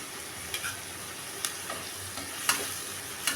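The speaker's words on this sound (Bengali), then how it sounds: "যতক্ষণ পর্যন্ত তেলটা না ছাড়ে ততক্ষণ পর্যন্ত আমাদেরকে মশলাটা ভাজা করে নিতেই হবে, কষিয়ে নিতেই হবে" Masala spice paste fries in oil for a rohu fish curry with taro stems. A faint, steady sizzle runs underneath, broken by a few sharp spatula scrapes against the pan.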